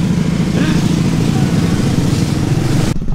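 A motorcycle engine rumbles continuously at close range on a rough road in Lombok, loud and rough, with a voice faintly mixed in.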